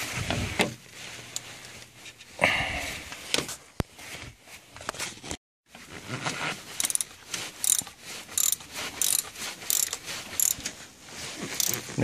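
A ratchet loosens the belt pulley on a Mercedes engine, giving bursts of rapid close clicking with short pauses and a brief silence midway, and no talking.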